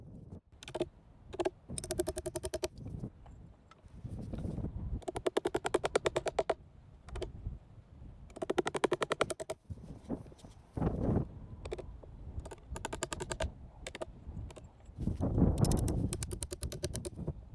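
Staple gun driving staples through straps into a wooden strainer post outdoors: several bursts of rapid sharp clicks and thuds separated by pauses, close and fairly quiet, with faint rustling between.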